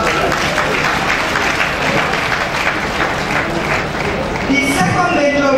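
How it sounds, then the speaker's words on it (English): Steady applause from an audience at a Nigerian women's anti-corruption gathering, dense clapping held at even strength throughout with a little crowd noise and faint voices near the end. "Please clap for them."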